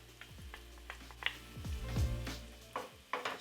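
Garlic and ginger go into browning onions frying in a pot for Kenyan basmati pilau, with a soft sizzle, scattered stirring clicks and a few utensil taps close by.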